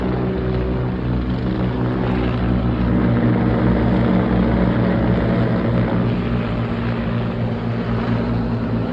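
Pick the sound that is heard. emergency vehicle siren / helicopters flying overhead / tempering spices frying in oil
helicopters flying overhead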